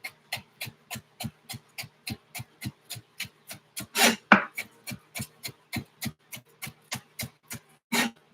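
Knife chopping fresh scallions thinly on a cutting board, a quick, even run of crisp close taps with a couple of louder knocks partway through.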